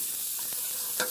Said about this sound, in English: we'll put the shallots right in there.